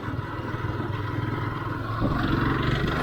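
Restored Yamaha R15 V1 motorcycle being ridden, its engine droning steadily up close with rushing wind, growing a little louder and rougher toward the end as it picks up revs.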